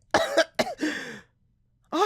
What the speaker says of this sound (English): Aki suddenly choked on her words and began coughing violently.